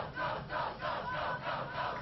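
A crowd at a football tailgate roars in rhythmic, pulsing waves, rising and falling about every half second, heard from a distance and fairly faint.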